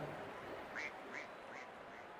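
Duck quacking in the RC24 cricket video game, four short nasal quacks spaced evenly over about two seconds, clear and moderately close above a faint steady background hum.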